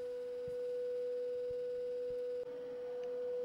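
A steady, pure 500 Hz tone from a loudspeaker holds unbroken and fairly quiet, with a few faint clicks in the background.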